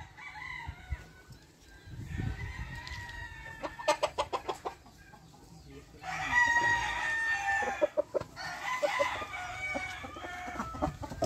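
An Indio rosón gamecock rooster crows loudly and close by, in long drawn-out calls, mixed with clucking and a quick series of sharp pulses in between.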